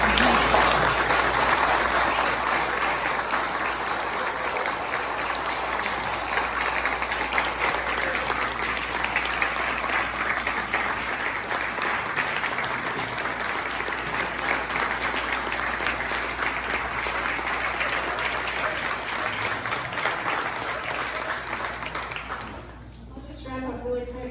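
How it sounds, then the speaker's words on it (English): An Ohio town hall crowd gives the speakers a long, loud round of applause, dense clapping sustained for over twenty seconds before tapering off, with voices murmuring beneath it. "could you just give another round of applause to the speakers?"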